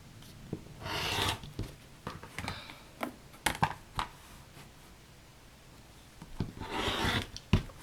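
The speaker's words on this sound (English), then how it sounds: "And trim these off." Scissors trimming folded fat-quarter fabric, heard as close, quiet rustling and snipping in short irregular bursts with brief pauses between cuts.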